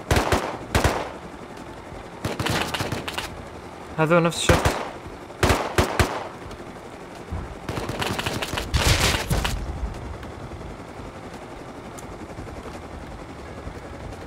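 Gunfire in the video game Rust, several sharp bursts of automatic fire scattered across the moment with short gaps, alongside brief spoken remarks.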